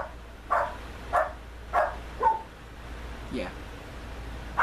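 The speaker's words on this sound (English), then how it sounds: "Dogs are barking" Dogs bark four times in a steady series, moderately distant and not very loud, with a soft later yelp and a brief spoken word near the end.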